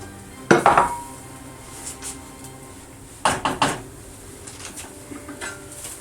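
Metal pot clatter as a lid is put on a pot of cabbage: a quick cluster of clanks, a quieter knock, then another series of metallic clinks as the lid settles, with light kitchen rattles after.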